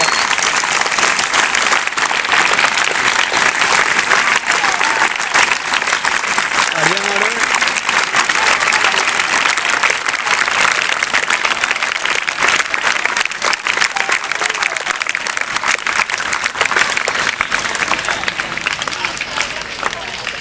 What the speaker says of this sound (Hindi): उस्ताज़ा कराम के लिए पूरे 20 मिनट की तालियां पूरे जोर से।